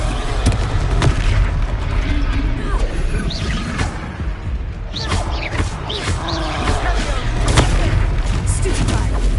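Booming spell blasts of the Confringo blasting curse in the Hogwarts Legacy video game, several loud bursts across a busy combat mix with spoken voices over it.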